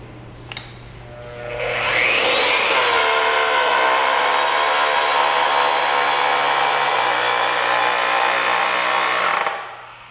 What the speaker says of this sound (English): Press the trigger switch and hold until the pipe is bent to the desired angle.